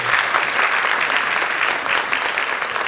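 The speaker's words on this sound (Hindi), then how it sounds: "जोरदार ताली लगाइए अगर आपने एंजॉय किया है।" Loud, dense applause from a theatre audience after a play, a steady wash of many hands clapping that holds at full strength throughout.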